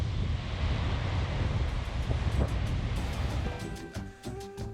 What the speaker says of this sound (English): What a beautiful beach.